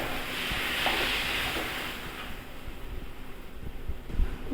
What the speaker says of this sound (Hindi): अब जब तक टमाटर अच्छे पक नहीं जाते हम इसे चलाते रहेंगे।